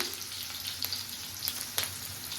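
Tomatoes fry in a pan of hot oil for homemade butter chicken, a short, steady close sizzle with a few faint crackles and utensil clicks.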